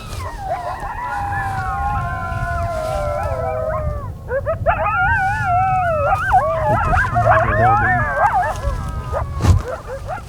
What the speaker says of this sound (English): these coyotes just light up